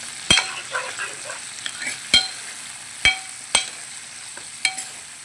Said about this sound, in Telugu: క్యారెట్ బెండకాయ ఒకసారి తిప్పుకుందాం ఫ్రెండ్స్